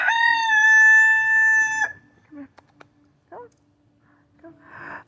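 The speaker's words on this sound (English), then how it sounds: "sorry for the noise in the background. Rooster music." A rooster crows loudly and close by in one long, drawn-out call, followed by a few short clucks and small scattered sounds, beside a chicken coop.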